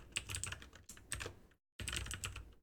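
Rapid clattering keystrokes on a computer keyboard in short bursts, with a brief pause before a final burst, close and fairly quiet.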